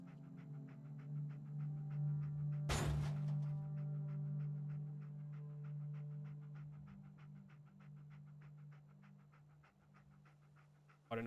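Dogmeat, the dog in Fallout 4, panting steadily at close range over a low droning hum, with one brief louder burst early on.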